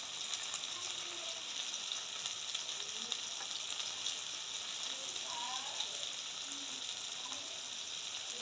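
Turmeric and spices frying in oil for chicken curry, a continuous soft crackling sizzle, steady and fairly quiet, with faint hints of stirring and a voice in the background.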